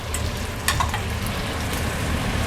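Tomatoes, corn and smoked fish (tinapa) stirred together in a hot pan for ginisang mais, with steady sizzling and frying noise and a few brief scraping stirs near the start.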